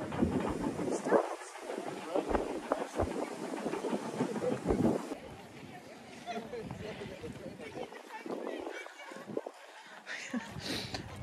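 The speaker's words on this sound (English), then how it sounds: "so that's the train, the steam train." The Jacobite steam train in Scotland rumbles and hisses steadily nearby, with a broad roaring wash of noise and people talking faintly underneath.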